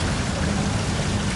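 Water flowing in a steady, close rush over a glossy, marble-like floor design in Japan; an even, continuous splashing wash with no voices.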